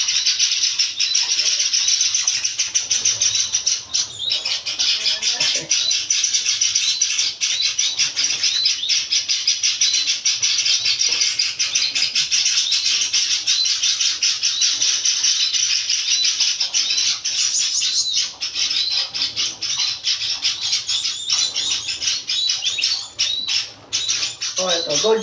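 Gouldian, canary, zebra, java and society finches chirp and tweet continuously in an aviary, a dense, busy chorus of close, high calls with occasional squawks throughout.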